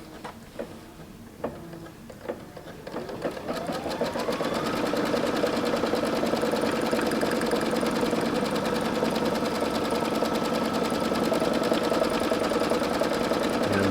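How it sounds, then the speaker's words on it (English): An embroidery machine stitching fabric held in a hoop, starting with a few clicks and then settling into a fast, even, loud mechanical chatter that carries on without a break. "So I'm going to go ahead and stitch this down."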